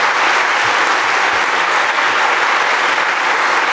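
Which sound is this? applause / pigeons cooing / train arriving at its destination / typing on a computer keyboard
applause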